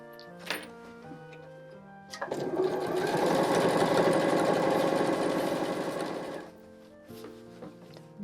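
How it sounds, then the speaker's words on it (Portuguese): A sewing machine topstitches a fabric wallet in one steady run of about four seconds, a fast, even mechanical chatter at close range. Quieter clicks and handling noises come before and after, with soft music in the background. "eu já posso pespontar o outro lado que eu desvirei"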